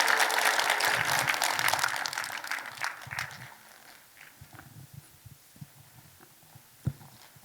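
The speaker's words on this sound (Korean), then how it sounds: "우리 박수로 맞아주시죠." A church congregation applauds to welcome a pastor to the front: loud, dense clapping fills the opening seconds, then thins to scattered claps and a few isolated ones toward the end.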